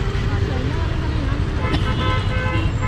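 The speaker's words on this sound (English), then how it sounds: "And everybody honks their horn too" Dense Delhi street traffic with car horns honking amid a steady roar of engines, loud and continuous, with voices mixed into the din.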